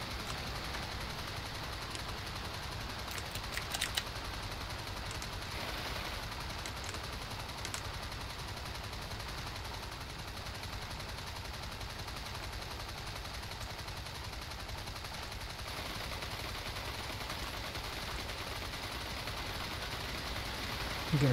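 Machine guns firing from a Bristol Fighter F.II biplane in the video game Flying Circus, a continuous rattling stream under steady engine drone, fairly faint and unbroken throughout.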